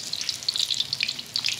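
A pot of gawu boils nearby, giving off a busy patter of small popping bubbles that bursts in short clusters over a low background, without speech.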